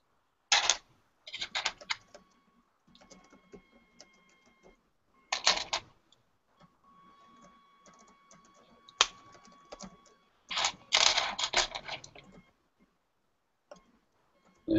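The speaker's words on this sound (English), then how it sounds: "I can hear you typing" Keyboard typing on an open microphone during a live LEGO building stream: close, clattering bursts of keystrokes separated by quiet gaps, with faint background tones.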